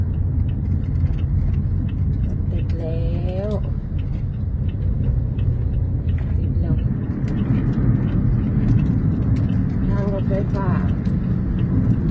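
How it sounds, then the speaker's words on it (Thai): Dense road traffic jam near Chaeng Watthana: a loud, constant rumble of car engines and idling vehicles close by, with occasional higher whines and squeals rising briefly above the steady drone. "เก็บบรรยากาศบนท้องถนนมาฝากค่ะ อันนี้แถวแจงวัฒนะนะคะ ติดมากเลยค่ะ"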